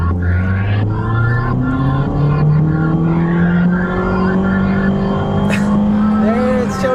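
A CVT-equipped car accelerates along a back road, its engine drone holding a steady, slowly rising pitch with a smooth, continuous whine rather than distinct gear shifts, loud and close throughout.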